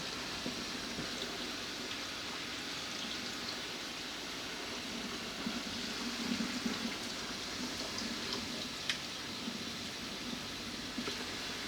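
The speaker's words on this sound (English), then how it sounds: "Turn on the hot water." Hot water running from a kitchen tap, a steady quiet hiss of flowing water that stays even throughout with no voices.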